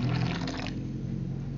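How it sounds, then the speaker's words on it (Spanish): Coconut water freshly drained from split coconuts splashes into a sweet homemade drink, a steady close pour of liquid that thins to a softer trickle partway through. "le vamos a aplicar más la agüita de coco de la que sacamos"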